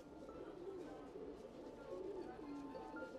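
Black Dubaaj pigeons coo softly in low, repeated murmurs, faint and close together in a quiet setting.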